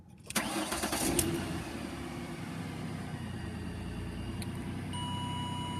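A car engine cranks and catches after diagnostic codes are cleared, a brief starter whir and rough surge settling quickly into a steady, close idle with no talking over it.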